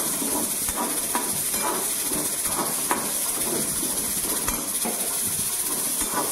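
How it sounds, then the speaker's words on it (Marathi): Sago pearls dry-roast in a pan with a steady close hiss, marked by light scraping and rattling bursts at a loose, irregular rhythm as they are stirred. "साबुदाणे घेतलेत भाजायला"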